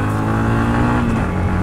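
The vlogger's own vehicle runs with a steady, loud engine drone held at a roughly constant pitch at an evening spot by Getalsud dam, close and continuous with no talk.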